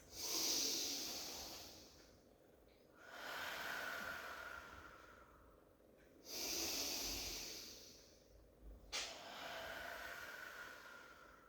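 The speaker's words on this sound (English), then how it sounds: "Take some lovely deep in-out breaths." Close, slow, deep breaths during a pilates stretch, with long hissing inhales and exhales alternating in a steady rhythm, about two full cycles, with no talk.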